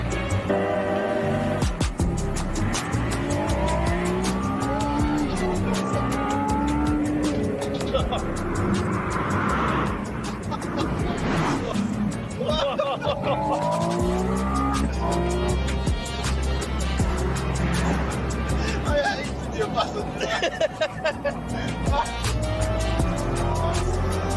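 A Ferrari race car engine roars and revs hard while tires squeal repeatedly through turns at a Sydney circuit; people talk loudly over the racing noise throughout.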